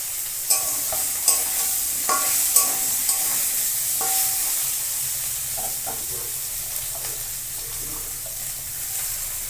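Greens being stirred into frying potato and pumpkin for a fish-head and Malabar spinach curry, a steady sizzle and hiss with several sharp spatula knocks against the pan early on, close and without speech.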